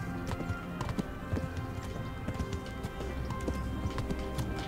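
Horse hooves clip-clopping in a steady galloping rhythm while riding in the video game Kingdom Come: Deliverance, close and continuous over a faint musical background.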